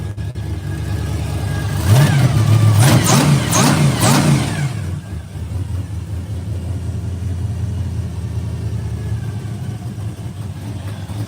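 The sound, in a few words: 1968 Pontiac LeMans engine revving with Pete Jackson gear drive and blower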